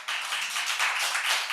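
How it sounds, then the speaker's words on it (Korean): A church congregation claps together during a sermon, giving a short burst of dense, steady applause from many hands at once that lasts a second or two. "또 박수 한번 올려야 안 되겠나?"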